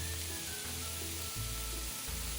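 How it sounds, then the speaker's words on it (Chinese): A filling of sweet potato and bamboo shoot stir-fries over medium heat in a pan, giving a steady soft sizzle with faint low scraping pulses as it is tossed, and no one talking. "一直拌炒至食材溢出淡淡香气"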